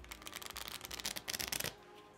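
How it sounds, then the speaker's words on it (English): A deck of playing cards is riffle shuffled by a spectator during a card trick, giving a quiet, close, rapid ripple of fluttering card snaps that lasts under two seconds before stopping. "I'm going to have the spectator give the deck a quick riffle shuffle."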